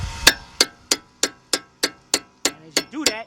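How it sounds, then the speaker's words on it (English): A hammer strikes the front right wheel bearing joint on a 2008 Audi A6 Quattro 3.2. About nine sharp, evenly spaced metallic blows ring out close by, each decaying quickly, with no talk. "what I'm gonna do is take my hammer"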